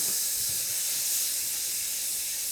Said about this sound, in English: Once I'm at the brown butter stage, straight in with a dessert spoon of capers.